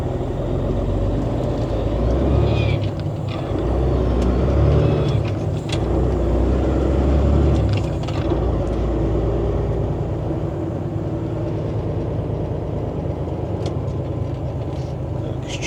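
A driving school semi truck pulling away, a deep engine rumble close by that swells and then fades, with brief hisses and clunks along the way.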